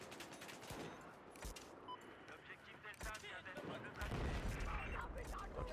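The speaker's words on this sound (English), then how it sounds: "We'll try the AN-94 in full auto." An AN-94 assault rifle fires in full auto during Battlefield 4 multiplayer, with bursts of rapid gunfire and distant battle booms piling up over a few seconds, heavier near the end, mixed with other game noise.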